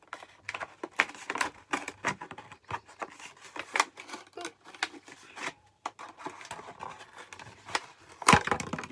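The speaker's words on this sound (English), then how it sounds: "I'm going to cut the next piece off." Sawing or cutting a piece off an upcycled plastic container for a garden planter, giving a steady run of scratchy, rasping strokes close by with a sharper crack near the end, with no talking.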